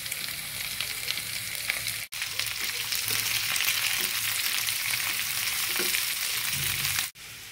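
Chopped green chillies and onions frying in a pan for a cabbage dish, a loud, constant close sizzle with occasional stirring clicks, cut by two brief moments of silence.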